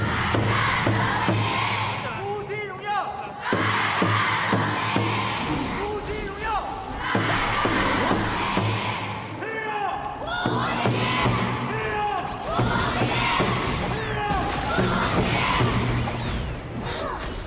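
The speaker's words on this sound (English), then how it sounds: "let's pass it over to the crowd for the chant" A large esports arena crowd at the Honor of Kings KCC2025 knockout stage chants loudly in rhythmic waves of shouting and cheering, with bursts repeating every couple of seconds and echoing through the hall.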